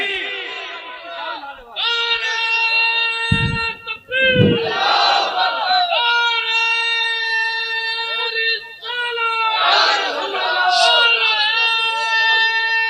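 A large crowd at a religious speech roars back in answer to a Takbir slogan, loud sustained massed voices rising in repeated waves of chanting with brief dips between them.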